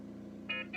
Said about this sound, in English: the alarm says balloon pump disconnected